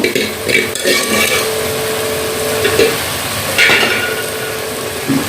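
Cabbage with peas and potato being stirred in a clay pot, a steady scraping and stirring texture over a soft sizzle, with a few clinks and knocks of the utensil against the pot, close and fairly loud.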